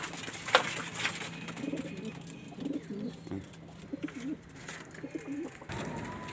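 Pigeons coo softly in a loft, their repeated low throaty calls rising and falling over faint background hiss, with a few sharp clicks and a brief flutter near the end.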